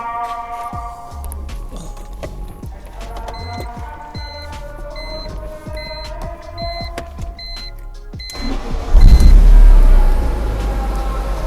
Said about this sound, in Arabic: راح نشغل السيارة عشان يتحرك الزيت